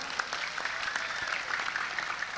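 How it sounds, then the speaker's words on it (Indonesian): Audience clapping at an Indonesian religious gathering honoring Az-Zahir, a steady, moderately loud patter of many hands continuing throughout. "Tepuk tangan untuk Az-Zahir"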